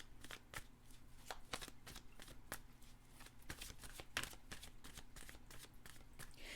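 A deck of tarot cards is shuffled in a steady run of soft, rapid flicks and riffles, close but quiet, over a faint low background hum and with no speech.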